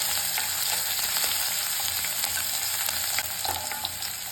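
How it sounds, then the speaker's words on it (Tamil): Garlic sautés in hot oil for an onion sabzi, giving a steady, close, dense sizzle with occasional light stirring clicks and no voices. "பூண்டு இந்த எண்ணெயிலே நல்லா வதக்கிக்கலாம்."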